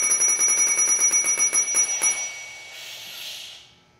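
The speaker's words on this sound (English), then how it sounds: "slowly purge the air out of the line while watching the pressure gauge until the end of service indicator alarm activates" End-of-service indicator alarm on a self-contained breathing apparatus (SCBA) ringing as a rapid, loud, bell-like trill for about two seconds, then cutting off into a fainter hiss of air that fades away.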